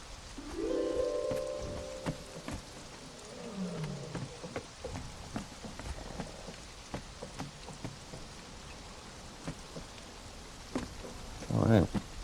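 Steady rain patters across the Conan Exiles game world, a soft continuous hiss dotted with sharp drop clicks, with faint tonal game sounds drifting in and out.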